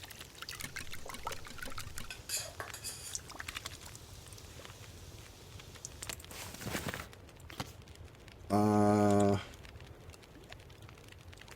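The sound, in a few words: pouring water to make porridge in The Long Dark video game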